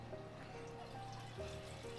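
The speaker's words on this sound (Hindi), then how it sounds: "तो अभी इसमें और डाल सकते हैं हम पानी" Water is poured into a pot of bathua and spinach kadhi, a thin steady trickle and splash running through the clip over a low hum.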